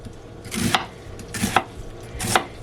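Three sharp knife strokes chop an onion on a cutting board for broccoli stump soup, evenly spaced and close, each a crisp thud with no voices.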